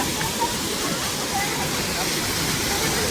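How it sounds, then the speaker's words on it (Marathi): A waterfall roars with heavy, continuous rushing water at close range, a dense, loud wash with no break. "इकडे पण आहे धबधबा"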